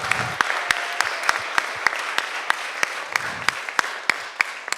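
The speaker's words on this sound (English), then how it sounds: "Let's give them a round of applause." Audience applause at a pledge signing ceremony on Guam, a steady wash of clapping from the crowd punctuated by sharp, evenly spaced loud claps close by.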